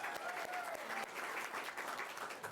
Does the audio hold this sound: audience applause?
yes